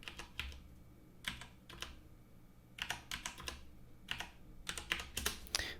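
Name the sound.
typing a Wi-Fi password on a computer keyboard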